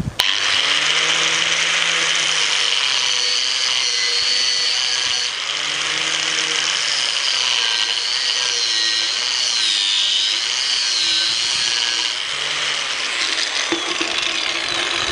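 Power tool cutting two pipe bushings at once, a loud, close, continuous high grinding whine with shifting pitch as the cut progresses, running without pause for about fifteen seconds.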